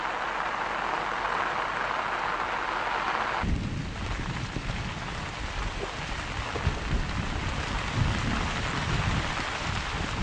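Heavy rain pours steadily onto surfaces, and partway through a deep rumble of thunder rolls in and lingers under the downpour, with the storm sounding close and loud.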